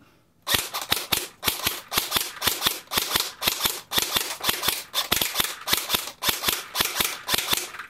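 A JG MP5 airsoft gun fires on semi-auto with about twenty sharp, loud cracks in a quick, slightly uneven rhythm, close and alone.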